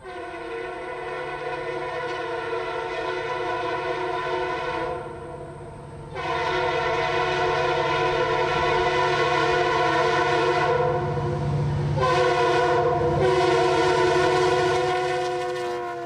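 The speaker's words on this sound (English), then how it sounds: "I made a move to Arcadia to catch the tech train racing through the curve just before downtown." A CPKC track evaluation train of red passenger cars passes close through a curve sounding a long, loud multi-tone horn that holds, breaks off briefly, then blares again over rumbling wheels.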